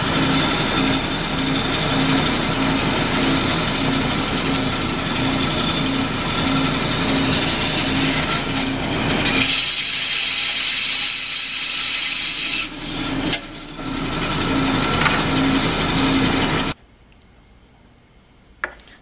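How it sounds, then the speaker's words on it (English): A bandsaw whines steadily as it cuts through hard deer antler, a continuous buzzing grind with a brief dip midway before the blade stops. "I'm going to go ahead and cut this on the bandsaw"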